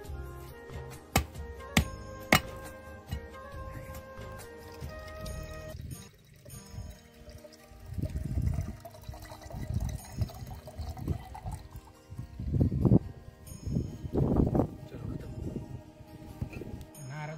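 Coconut water trickles and splashes as it is poured from a fresh coconut into a vessel in a Konkan village, in uneven close bursts with low voices around it.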